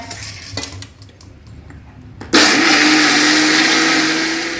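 A mixer grinder grinds batter for Kasaragod-style Kayada or Neypathiri. A few light clinks come first, then the motor starts abruptly and runs loud and steady with a harsh whirring roar, close by, with no talk.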